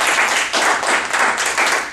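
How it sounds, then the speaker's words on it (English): Members at a Toastmasters meeting give a round of applause, a loud, close burst of many hands clapping with slight pulsing rhythm across two seconds. "please give a round of applause to Bobby Conseco."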